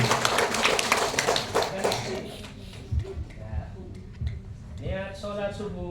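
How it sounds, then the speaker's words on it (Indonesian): An audience at an elementary school Isra Mi'raj gathering claps to encourage a student: a burst of quick, dense hand claps at the start, then fading into talking voices. "Tepuk tangan dulu, kasih semangat Rizky."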